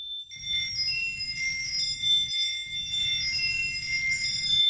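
Bell-like chimes made by moons in the video game Supermoons, clear sustained high tones ringing in layered, overlapping notes over a soft low pulsing bed, with no talking.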